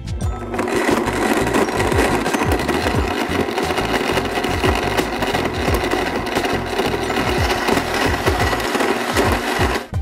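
A blender runs loud and steady, whirring and churning mushroom sauce made with shiitake, salt and coconut aminos, a continuous motor drone with a gritty grinding texture.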